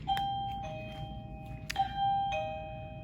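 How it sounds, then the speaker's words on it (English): A doorbell chimes in a kindergarten classroom, clear ringing tones sounding a few times in a row, quiet and alone. "Oh, and I got a doorbell."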